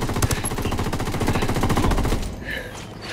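Sustained automatic gunfire in Ghost Recon Wildlands during an urban firefight, a dense, loud rapid-fire barrage that fills most of the moment before easing into a quieter tail.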